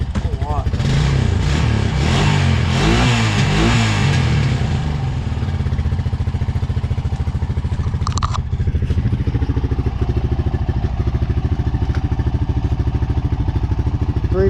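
A Honda Rancher ATV fitted with a big bore kit runs loud and close, its steady engine rumble and clatter holding throughout, with a burst of revving early on.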